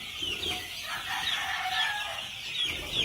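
Gamefowl chickens at a game farm cluck and crow in a steady overlapping chorus, with several birds calling one after another at moderate distance and no talking.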